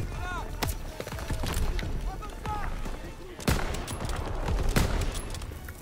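Bursts of gunfire crack through a busy Call of Duty: WWII campaign soundscape, with sharp isolated shots and a couple of louder blasts over continuous background noise; no clear talk.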